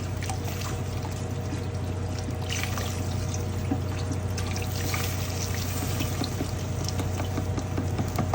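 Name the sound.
beef stock poured into a pot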